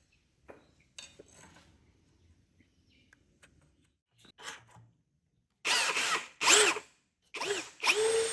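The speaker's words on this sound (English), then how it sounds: "use this dowel centering jig to drill the appropriately sized hole, which in this case is a 1/2 inch" A drill bores a 1/2 inch hole through a dowel centering jig into a Harbor Freight workbench, with faint handling clicks first and then four loud, short whirring bursts close by.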